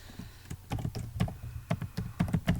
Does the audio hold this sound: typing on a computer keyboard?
yes